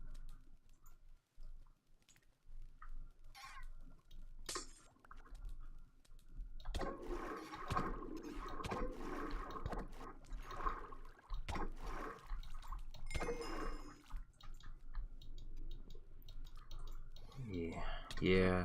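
Water flowing in a video game farm build, a continuous rushing and trickling with game clicks and chirps, heard under people talking through most of the clip.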